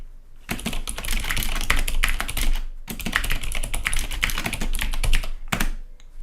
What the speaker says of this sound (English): I'm going to type in some text.